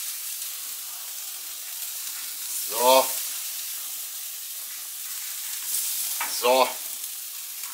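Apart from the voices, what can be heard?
plum butter spare ribs sizzling bone side down on grill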